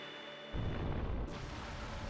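A Fire Pillar spell erupts in the game Chrono Cross: a sudden loud burst and roaring rumble hits after a short quiet hum, with a bright hiss flaring up partway through, all without talk.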